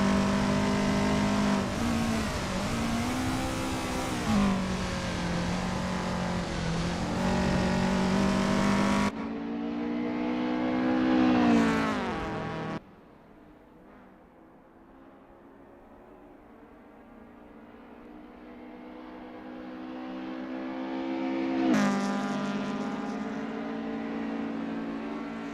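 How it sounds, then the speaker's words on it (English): A Lotus Cortina MK1 race car in Assetto Corsa laps Oulton Park in practice, its engine revving hard through rising and falling gear changes, then easing to a quieter drone before accelerating loudly again. "Joe Yu is getting to grips with the Lotus Cortina MK1 in this practice session"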